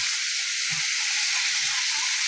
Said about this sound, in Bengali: এই একটু আলু চচ্চড়ি করছি